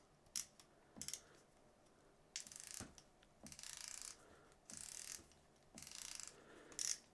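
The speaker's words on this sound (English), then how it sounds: "So now I will go on the lowest drag and have a listen for it." A Tsurinoya Dark Wolf baitcasting reel's drag, set to maximum, gives off several short bursts of bright mechanical clicking separated by brief pauses. It is close and fairly quiet, with no voices.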